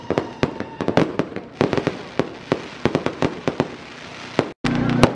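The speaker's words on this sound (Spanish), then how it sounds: "Qué bonitos fuegos artificiales, luces de colores iluminan el cielo de San Eduardo." Fireworks burst over the San Eduardo carnival night in a rapid irregular string of sharp loud cracks and booms, dozens of reports close together with a brief dropout near the end.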